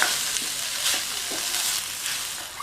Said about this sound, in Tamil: சேர்த்துட்டு நல்லா கலந்து விட்டுருங்க.